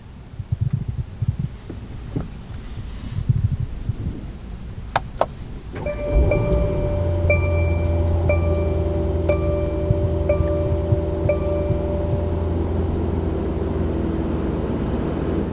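A 2019 Mercedes-AMG GT 4-Door starts up: a few chimes and clicks, then the engine catches with a loud burst and settles into a deep, steady idle rumble while cabin warning dings repeat over it.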